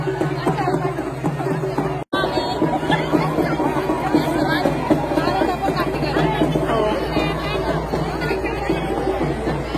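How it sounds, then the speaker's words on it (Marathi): Dense crowd chatter at the Malganga Devi yatra in Nighoj, a steady unbroken hubbub of many voices close around, with one sharp momentary dropout near the start. "खूप गर्दी आहे म्हणून मी जाऊ शकत नाही पुढे."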